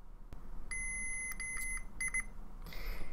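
Multimeter continuity tester beeping as its probes bridge the far side of a signal capacitor. A run of short, clear electronic beeps comes in quick succession over a low background hiss, followed by a brief higher chirp.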